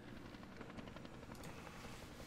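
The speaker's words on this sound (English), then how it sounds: "Oh, it's a helicopter." A helicopter flies overhead, its low rotor thrum a steady, moderately faint drone that holds throughout with no talking.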